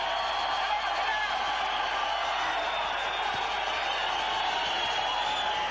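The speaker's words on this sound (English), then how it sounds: "both fighters deserve the applause of the crowd as they begin the 12th round" Boxing crowd in an arena applauding as two fighters begin the 12th round, a steady wash of clapping and cheering that holds evenly throughout at moderate distance.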